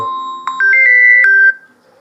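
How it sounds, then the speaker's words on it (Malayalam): A phone ringtone plays a short electronic melody of a few bright rising notes, loud and close, then stops. "ഫോൺ അടിക്കണേ"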